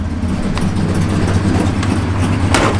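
A 1970 Plymouth Road Runner V8 idles close and loud with a lopey aftermarket cam, its deep uneven rumble pulsing steadily, with a couple of small clicks over it.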